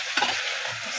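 Bottle gourd is stirred into oil and spices in a pan, one brief spatula scrape over a dense, close, steady sizzle.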